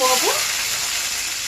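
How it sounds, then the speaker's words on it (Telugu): Tempering seeds splutter in hot oil as a loud, continuous hiss, with a brief voice at the start. "పోపు గింజలన్నీ ఆయిల్లో వేసినాక చిటపట్లాడినాక"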